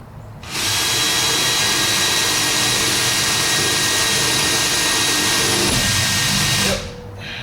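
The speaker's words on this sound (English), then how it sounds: "I'm going to use my concrete drill here." A concrete drill bores into a shop wall in one continuous loud whining burst lasting about six seconds, starting and stopping abruptly.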